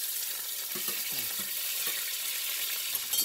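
Salmon pieces frying three at a time in a pan over moderate heat give off a steady, close, broadband sizzle with a few soft pops and crackles throughout.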